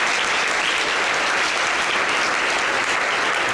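A crowd at a youth caring event claps in a thick, continuous wash of applause, loud and even throughout without a break.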